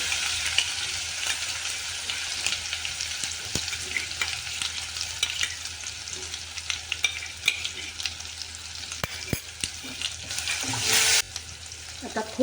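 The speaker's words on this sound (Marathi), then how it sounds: "त्याच्यात आता आपण मिरचीचं वाटण टाकून घेऊ" Green chili paste fries in hot oil for a Marathi patvadi rassa, giving a steady close sizzle with frequent scraping stir strokes and clinks of a spoon against the pan throughout.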